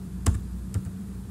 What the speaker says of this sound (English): So I'm typing c1,